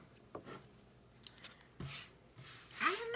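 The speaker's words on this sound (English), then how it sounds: "how these cards shuffle" Tarot-sized oracle cards shuffled by hand, giving a few soft papery rubs and riffles with one short snap, fairly quiet and close with no talking.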